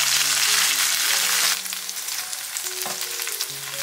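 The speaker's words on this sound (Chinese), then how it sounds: "腐竹稍微翻炒一下" Tofu skin stir-fried in oil with ginger, scallion and garlic in a clay pot, a loud close sizzle that drops in intensity partway through as stirring continues, with occasional scraping.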